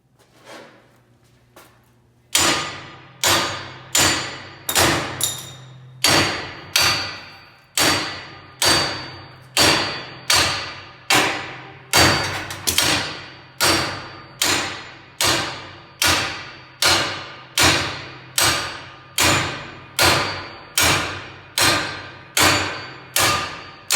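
A slug puller hammering a slug out of a Harley-Davidson Shovelhead frame during a hardtail conversion, heard as about thirty loud, close metallic thuds in a steady rhythm, each with a brief ringing decay, and no talking.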